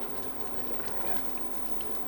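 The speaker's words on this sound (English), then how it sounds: "Really bubbling now" Butternut squash and apple soup boils in a pot, giving a steady, continuous bubbling and soft liquid patter at low level, with a faint steady hum underneath and no voices.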